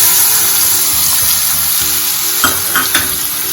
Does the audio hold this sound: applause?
no